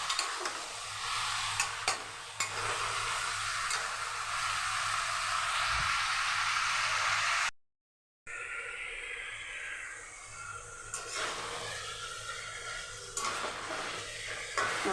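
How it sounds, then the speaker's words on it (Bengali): Chicken pieces sauté in hot oil for masala chicken, giving a steady close sizzle broken by scraping stirs in the pan, with a brief silent gap partway through. "এবার 5 থেকে 7 মিনিট আমাকে ভালো করে মাংসটা কষাতে হবে"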